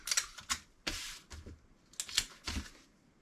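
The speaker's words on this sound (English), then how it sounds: "Then we tape the edges." Packing tape is pulled and pressed along the edges of a small package of sports cards, in quick close crackling strips and taps with short pauses between them.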